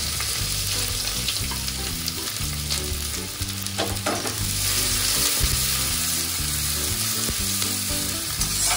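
Chopped onion fries in hot oil in a pan for a Bengali-style liver fry, a loud steady close sizzle with occasional stirring scrapes. Background music plays underneath.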